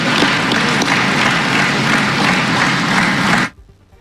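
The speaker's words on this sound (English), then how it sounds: "He gets the applause of it." A loud, dense burst of crowd applause and cheering after a joke about no longer being a coach but El Jefe, sustained evenly for several seconds and then cut off abruptly.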